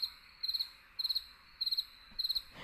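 Crickets chirp in short, evenly spaced bursts of rapid pulses, about four trills repeating steadily against a quiet background.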